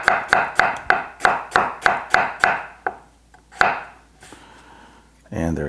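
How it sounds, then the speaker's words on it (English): A knife slices a halved potato thinly on a cutting board, giving about ten quick, evenly spaced chops, then a couple of slower cuts. A brief clatter follows at the end, with no talking. "Cut your potato in half, okay? And we're going to thinly slice it, just like that, okay?"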